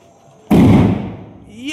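A firecracker goes off with a sudden loud bang followed by a crackling, fading rumble, preceded by quiet background and a faint voice afterward.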